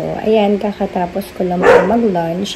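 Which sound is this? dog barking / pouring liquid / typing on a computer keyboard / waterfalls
dog barking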